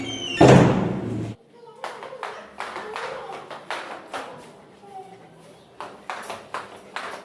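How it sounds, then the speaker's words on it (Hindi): A house door shuts with one loud, close thud near the start, and voices and light tapping follow. "दरवाज़ा बंद कर लो"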